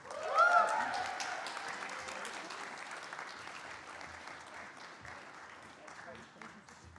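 Audience applause at an arts awards ceremony, a swell of clapping that peaks early and then settles into steady, fairly distant applause sustained throughout.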